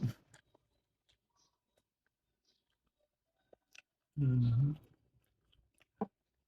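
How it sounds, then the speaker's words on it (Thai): Someone eats patongko fried dough with rice porridge, with sparse, close crunchy chewing and soft clicks against near silence and a short burst of voice in the middle. "กิน ปลาฮ่องโกคู่กับข้าวต้ม"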